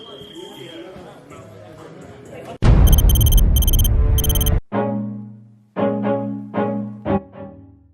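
A sparring round timer goes off during a BJJ roll, a loud, rapid electronic beeping in repeated bursts over a rush of noise for about two seconds, followed by voices.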